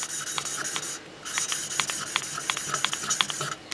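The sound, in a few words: lapping valves of a Husqvarna YTH150 engine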